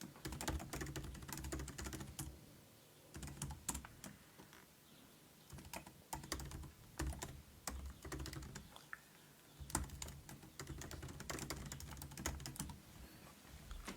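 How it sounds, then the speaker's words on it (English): Steady computer keyboard typing in bursts of rapid keystrokes with brief pauses, close and fairly loud, with no voices. "You can type in some text, several lines,"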